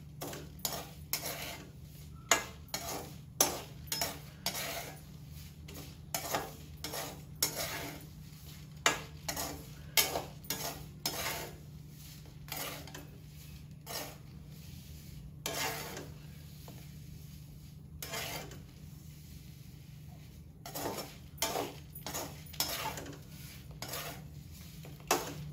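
Pani puri shells being stirred and roasted in a pan, heard as rapid, quiet rattling and tapping scrapes in irregular bursts over a low steady hum, with no speech.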